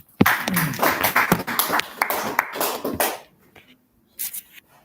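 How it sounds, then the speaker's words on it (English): Scattered clapping from a small audience at a peace presentation, a few seconds of uneven claps that stop abruptly, followed by near silence and a brief late burst. "I'll give you a hand applause."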